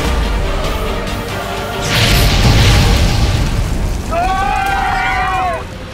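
A loud explosion effect in a TV fantasy show, set amid a burning train, swells into a broad booming roar around the middle, with a whooshing rush and bright crackle near the end while a voice speaks over it.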